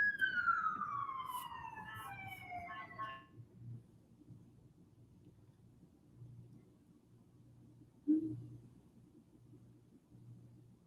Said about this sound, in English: I was just waiting for the sirens to go.